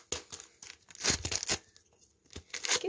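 Close, crinkly tearing of a thin vanilla sugar sachet, in several quick ripping bursts separated by short pauses.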